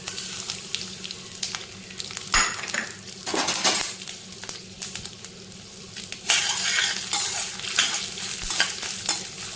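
Black urad dal roasts in a pan with a continuous crackling sizzle, broken by irregular clatters and scrapes of a spoon stirring against the pan; no voices.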